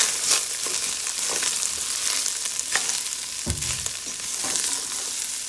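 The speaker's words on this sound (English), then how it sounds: "I just add my black pepper, and I'm going to give this a little mix." Black pepper is stirred into a pot of pigeon peas and smoked fish cook-up, with a spoon scraping and clunking through the mix over a constant close sizzle.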